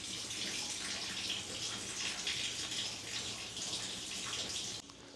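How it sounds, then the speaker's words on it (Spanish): Water rushing back into a house's pipes after an outage in Cuba, a steady hissing, splashing flow like a running tap that holds close and loud, then drops lower near the end, with no voices. "increíblemente, gracias a Dios, terminando prácticamente este video, está entrando el agua"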